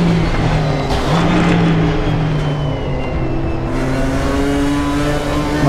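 A race car engine in the RaceRoom sim racing game drones loudly and continuously, revving up and shifting pitch as it speeds along, with no voices.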